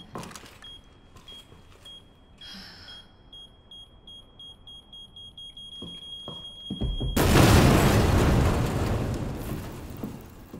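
An explosive detonating in Resident Evil 2, a steady electronic beeping tone and mechanical clicks leading into a sudden loud, broadband blast that roars and slowly fades.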